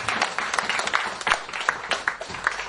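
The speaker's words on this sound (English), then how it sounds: "Let us give them a round of applause." Applause from an audience at a ventures and investment programme event, honouring former trainee chefs; scattered, uneven clapping of moderate loudness with a few sharper claps standing out, no speech over it.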